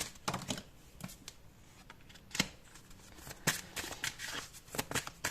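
Tarot cards shuffled and drawn by hand, a close, quiet run of soft papery flicks and snaps with irregular rhythm, no talking.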